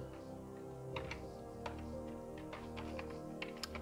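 A computer keyboard clicks as a code is typed, with sparse, irregular key taps spread over a few seconds against a quiet hum.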